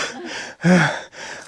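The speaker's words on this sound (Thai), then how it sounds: "เสียงที่กำลังหอบนี่คือเสียงคนจริง ๆ นะครับ" Heavy, ragged panting comes from a climber heading up a mountain at dawn, with close, loud gasping breaths in a steady rhythm, one strong inhale standing out in the middle.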